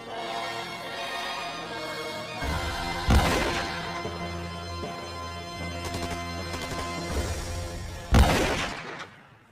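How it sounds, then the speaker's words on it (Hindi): Two loud gunshot-like bangs a few seconds apart, each with a sharp crack and echoing tail, over a continuous rumbling musical background. "ये अंदर से गोलियों की आवाज कैसी आ रही है?"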